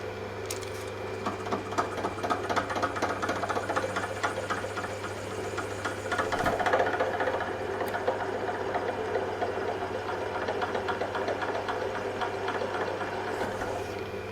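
A milling machine with its power quill feed winding down cuts on a bench vice under repair, producing a steady, close mechanical whir with a rapid rattling chatter and occasional clunks throughout, without speech.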